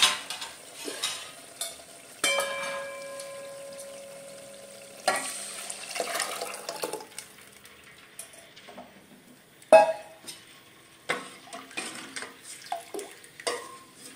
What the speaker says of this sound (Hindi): आता आपण त्याच्यामध्ये जे आळणी काढलं होतं सूप ते टाकून देणार आहोत